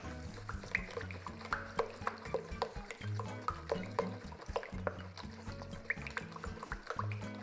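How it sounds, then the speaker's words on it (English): Spoon beating a thick chocolate coconut brownie batter with egg in a bowl, faint rhythmic wet slaps and scrapes repeating steadily, close and quiet. "you're going to beat this round now with a spoon for around 1 minute"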